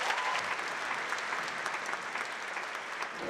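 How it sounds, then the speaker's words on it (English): A concert hall audience gives warm, sustained applause at the end of an orchestra performance, with even, dense clapping heard at a moderate distance and no pauses. "ends to a warm applause from the audience"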